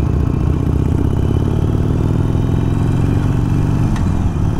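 A Harley-Davidson Iron 883 motorcycle is ridden with a loud, close, steady V-twin engine rumble under throttle that continues throughout with no pauses and no talk.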